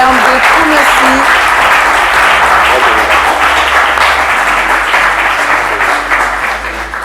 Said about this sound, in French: chers téléspectateurs et vous, cher public, je vais vous demander de bien vouloir applaudir Siaka, Ibrahim, Latif et Wilfried